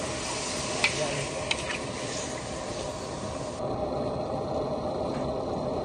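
Garlic and onion sizzle in a hot pan while being stirred, a steady frying hiss with a few scraping clicks of the utensil near the start.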